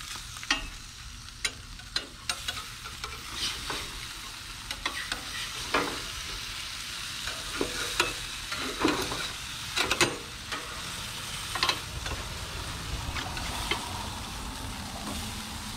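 A large chicken breast grills with a close crackling sizzle, punctuated by sharp pops, scrapes and clicks of a utensil at irregular intervals.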